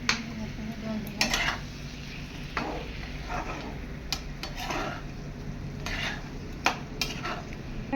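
Water is poured into a pan where rohu fish cooks with onion, bringing a soft sizzle, metal scraping and spoon-stirring clatter, with sharp clinks of utensil against pan recurring at intervals.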